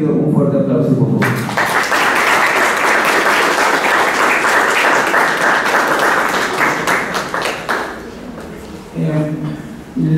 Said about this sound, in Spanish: Para todos ellos pido un fuerte aplauso, por favor.